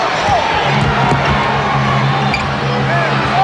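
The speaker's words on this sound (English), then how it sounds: "Hear the reaction from the crowd here at the Summit." Basketball crowd at the Summit arena during a 1995 NBA Finals game reacts loudly to a no-call, a steady roaring hubbub of voices and cheering with occasional sneaker squeaks and court sounds.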